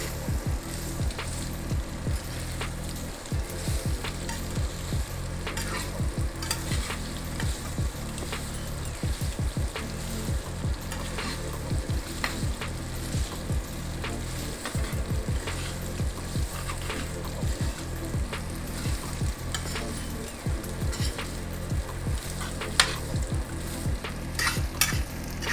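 Pasta and bacon with pepperoncini sizzle and bubble in a pan, a dense unbroken crackle with frequent soft pops, close and steady throughout, with no one speaking.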